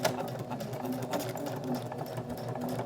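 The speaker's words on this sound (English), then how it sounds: "put our needle down, stitch and then back stitch" A sewing machine runs close by in a steady, even whir of rapid stitches, stitching and then back stitching at the start of a seam on a fabric key fob holder.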